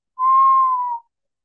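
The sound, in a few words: voice imitating whistling of a punctured cow lung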